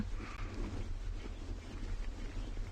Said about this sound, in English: I'm sure you can hear the wind blowing in the background. It's incredibly windy here.